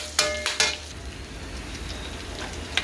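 Onion dropped into a pan of hot oil already used for frying, giving a few sharp sizzling bursts and utensil clinks near the start, then a steady low frying hiss.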